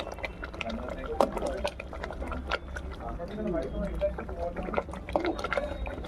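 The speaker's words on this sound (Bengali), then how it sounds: "এবার নেড়ে দেবো।" Spiced dalia porridge stirred in a pot on the stove, with liquid bubbling and soft scraping and sloshing running throughout at a close, steady level.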